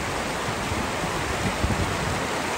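River water rushes in a steady, dense roar at the top of Caracol waterfall in Canela, close and continuous, with no voices.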